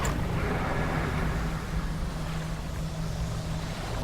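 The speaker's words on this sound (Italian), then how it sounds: "il motore che ha qualche problemino tecnico" A faulty fishing boat engine in the video game Dredge sounds as a steady, dense low rumble and drone mixed with water and wind wash, constant and fairly loud throughout, with no speech.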